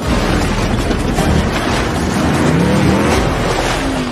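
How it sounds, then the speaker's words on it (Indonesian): Cars racing against military soldiers in a Fast and Furious 9 chase, with an armored car joining in: a loud, unbroken engine roar with rising whines and tire noise, close and dense throughout. "Dom dan kawan-kawan lagi balapan sama prajurit militer"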